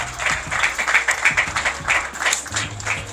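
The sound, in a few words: audience clapping and slapping hands on tables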